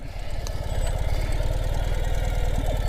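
Ural CT sidecar motorcycle engine idling after backing up with a reverse shift lever, a steady low rapid thumping pulse held close and even throughout.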